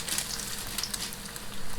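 Salmon croquettes frying in a pan of oil, a soft steady sizzle with faint crackles and pops, heard close but quiet.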